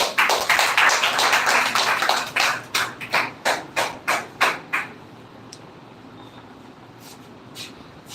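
Audience clapping for the winner of a speech competition, a dense burst of many hands for about three seconds that breaks into a few louder, spaced claps before fading to quiet room noise.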